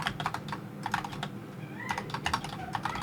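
Code being typed on a computer keyboard, steady bursts of close, crisp key clicks with brief pauses between runs, no voices.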